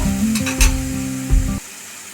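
Ginger and tomato paste with spices fries in a pan, a steady close sizzle broken by a few stirring scrapes before it cuts off suddenly.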